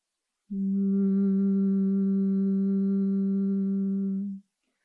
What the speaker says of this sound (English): we're going to make the sound of the humming bee.